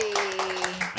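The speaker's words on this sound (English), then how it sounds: "Round of applause for Toby." A small group in a podcast studio gives Toby a brief round of applause, a few quick claps over a sustained tone and a voice.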